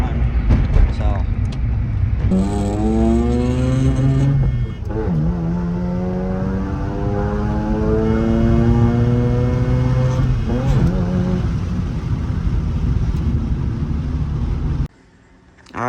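A Mazda RX-7 FC S4 rotary engine on the road with a possible throttle position sensor fault, its tone rising in smooth steady revs through the gears, loud and close, with a voice talking over it.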